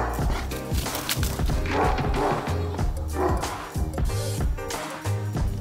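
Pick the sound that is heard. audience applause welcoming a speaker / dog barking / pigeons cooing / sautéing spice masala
dog barking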